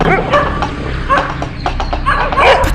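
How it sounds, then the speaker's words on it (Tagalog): A dog barks and yips repeatedly over a dense, busy background of game-like noise. "Hinahabol ako ng isang aso. At sobrang ingay nito sa katatahol sa akin."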